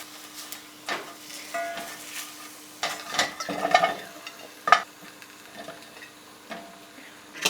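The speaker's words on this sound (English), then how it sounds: "it's still warm, which is why it's sizzling" Food sizzles quietly in a pan, with scattered crackles and utensil scrapes as it is stirred, close up.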